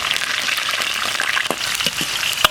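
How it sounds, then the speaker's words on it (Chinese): Dried chili, Sichuan pepper, star anise and bay leaves frying in hot oil in a wok, a loud continuous sizzle and crackle with scattered sharp pops and a clink near the end. "锅里倒点油，下点干辣椒、花椒、8角、香叶，往香炸一下"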